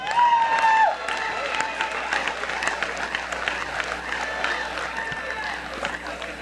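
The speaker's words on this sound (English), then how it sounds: "let's have a round of applause for our Lorain High seniors in the class of 2020." Crowd applause and cheering fill a high school gym at a boys' varsity basketball senior night for the Lorain High class of 2020, steady and dense throughout, with a brief whistle-like tone near the start and scattered shouts mixed in.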